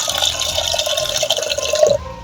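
Water poured from close by onto washed green gram in a vessel, a short splashing, trickling pour lasting about two seconds before it stops abruptly.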